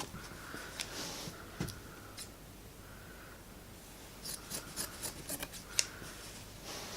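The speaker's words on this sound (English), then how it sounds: "I'm just pulling the scissors tight along that edge." Scissors slide along the edge of paper in a quiet indoor setting, giving faint scraping swishes with a few soft clicks and rustles, the sharper ticks clustering toward the end.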